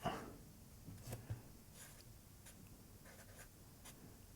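Marker or chalk strokes on a board while an Arabic word is written, faint scratchy taps and short squeaks in a quiet room, a few separate strokes spread over several seconds.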